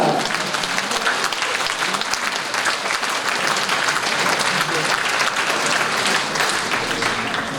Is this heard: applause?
yes